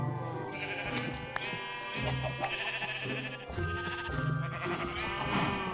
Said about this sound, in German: das ist ein mega penetrant, die ganzen Schafe.